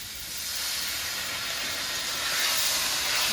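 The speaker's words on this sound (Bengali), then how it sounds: "এরপরে একটু জল দিয়ে কষিয়ে নেবো" A fried spice paste of green chilli for a thin meat curry gives a loud, steady, hissing sizzle once water is added to the pan, continuing without pause and without talk.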